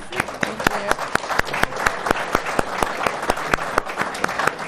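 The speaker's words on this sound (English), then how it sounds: "Give her a round of applause for joining us." Scattered audience applause at a legislative speaker series event, individual hand claps sounding as distinct sharp, rhythmic cracks close by, repeating steadily for the whole stretch.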